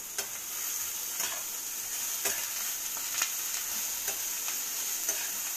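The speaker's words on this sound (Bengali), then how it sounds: "এখানে চুনো মাছটা ভাজা আছে" Small chuno fish fry in hot oil in a pan with a steady close sizzle, while a spatula stirs them and taps the pan at a regular rhythm, roughly once a second.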